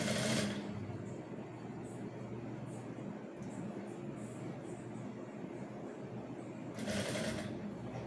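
Sewing machine stitching a seam on a collar-front fitted bubu garment, heard as a quiet continuous whirring hum, with brief louder bursts at the start and near the end.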